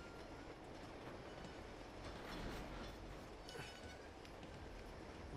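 A moving train in the video game Uncharted 2: Among Thieves rumbles in a steady, dense roar, with wheels clattering and occasional metallic squeals layered over the continuous noise, no voices.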